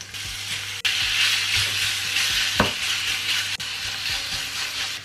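Beef steak frying in a pan, a loud continuous sizzle and hiss close up, broken by occasional scraping stirs and soft knocks of a utensil against the pan.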